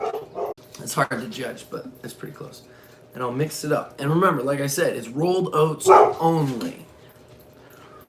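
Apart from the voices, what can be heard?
dog barking and whimpering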